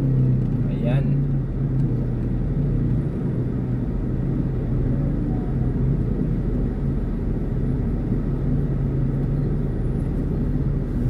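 Road traffic in San Isidro, Montalban during a busy election day: a steady low rumble of idling and slow-moving vehicles runs throughout, with people speaking over the constant engine drone.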